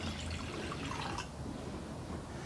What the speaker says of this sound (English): I'm going to pour exactly 1 cup of water into each of these vessels